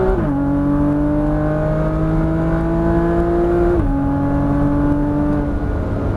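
Porsche Cayman GTS engine on a track pulling hard under heavy throttle, a steady loud droning roar with rising pitch that drops briefly at an upshift before climbing again, close and continuous.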